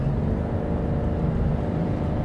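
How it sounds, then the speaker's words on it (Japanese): Toyota Aqua GR Sport hybrid with its petrol engine running while climbing an uphill road, heard as a steady, dense low rumble and drone that holds evenly throughout with no voices. "このね上り坂ではさすがにエンジンかかりますね。"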